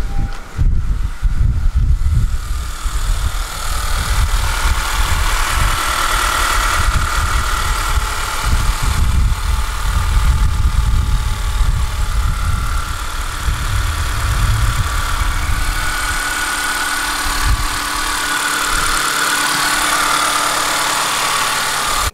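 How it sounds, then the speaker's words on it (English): A car engine idles after a valve cover gasket replacement, running with a steady, rough low rumble and vibration throughout, with some louder revving near the start. "Next we're gonna go ahead and start the car, and then just visually inspect to make sure there's no leak."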